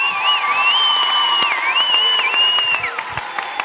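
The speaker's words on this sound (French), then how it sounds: "J'ai demandé une ovation d'applaudissements" A television talent show audience applauds and cheers in a continuous crowd roar, with piercing whistles gliding up and down over the top and a few sharper claps poking through.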